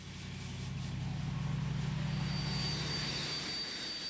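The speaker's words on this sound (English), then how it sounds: "A converted jet engine is rendering an invaluable service." A converted jet engine used to clear snow and ice from an airfield runway roars steadily in the distance, a low droning rumble with a faint high whine above it that holds for several seconds.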